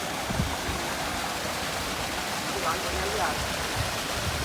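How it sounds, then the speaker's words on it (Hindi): A natural waterfall at Juna Pani on a forest trek, a steady broadband rush of falling water filling the scene throughout, with faint brief voices and small sounds over it. "ये देखिए झरना,"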